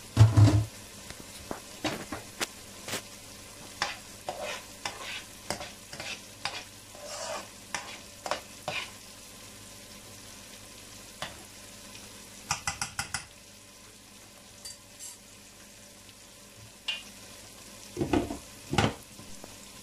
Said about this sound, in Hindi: इस मसाले को जो है अभी हम भूनेंगे और इसके साथ साथ जो पालक है वो भी हमारी पक रही है